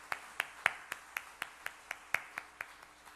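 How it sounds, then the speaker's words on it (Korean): A Korean church youth service congregation claps together in a slow, even rhythm, about a dozen crisp unison claps, fairly quiet and with no talking over them. "우리 한번 박수로 축복하겠습니다"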